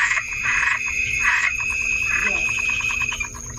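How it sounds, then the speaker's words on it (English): A frog croaks in repeated raspy pulses, close and fairly loud, with a steady insect or bird-like whine running behind it. "Yes, this is the sound of frog."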